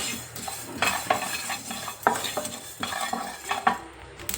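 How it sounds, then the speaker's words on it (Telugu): Sesame seeds dry roasting in a kadai with no oil, stirred with a spoon that scrapes and clinks against the metal in a steady, uneven rhythm, close and moderately loud with no voices. "నూనె లేకుండా నువ్వులు వేయించుకుందాం"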